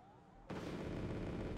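Bombs exploding in the Wargame: AirLand Battle war game, a sudden heavy blast that bursts in after a thin whine and rumbles on as a dense roar to the end, loud and close.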